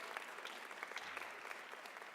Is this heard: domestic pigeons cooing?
no